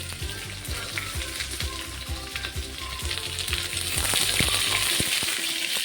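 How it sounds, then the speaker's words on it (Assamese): Chopped onions fry in hot oil with bay leaves and whole spices, a dense, steady sizzle with soft rhythmic stirring knocks beneath it, growing slightly louder toward the end. "পিঁয়াজখিনি অলপমান ৰংচুৱা হোৱালৈ ভাজি লওঁ।"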